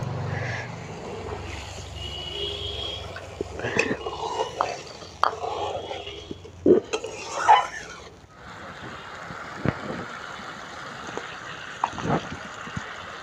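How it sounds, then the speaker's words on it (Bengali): Poppy seed and mustard paste is stirred with water in a pan for a Bengali Bhola fish curry: soft wet sloshing and scraping with scattered clinks, irregular and close, with no voices. "এখন এই পোস্তটা আর সরষে বাটাটা আমি এর মধ্যে দিয়ে দিচ্ছি। একটু জল দিয়ে গুলিয়ে দিচ্ছি।"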